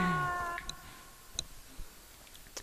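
A cat meows in the video game Spyro: A Hero's Tail, one short meow at the start followed by faint scattered clicks and taps in a quiet scene.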